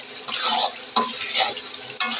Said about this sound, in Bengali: সেই পানিটা দিয়ে ভালো করে আমি ভাজবো। অনবরত নাড়তে হবে।